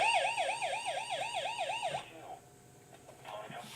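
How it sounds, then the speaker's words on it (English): A Springfield outdoor warning siren, under test, wails and falls rapidly in a repeating yelp for two seconds, then stops, leaving faint background noise. "He did a siren test of a Springfield"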